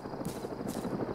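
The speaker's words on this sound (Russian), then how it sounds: "Над графом пролетает вертолет." Helicopter flying overhead in a Cold War–themed shooter, a brief rhythmic rotor chop with hissy bursts, fairly faint and steady.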